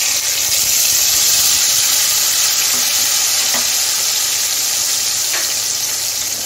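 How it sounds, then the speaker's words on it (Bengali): Spice paste sizzling in hot oil with cumin and a torn bay leaf for a papad kalia curry, a loud, steady frying hiss with occasional soft stirring scrapes, close and uninterrupted. "এখন আমি যে পেস্টটা বানিয়ে রেখেছিলাম সেই পেস্টটা এখন দিয়ে দিচ্ছি।"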